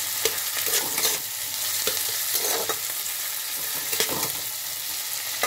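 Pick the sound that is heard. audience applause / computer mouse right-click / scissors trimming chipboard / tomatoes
tomatoes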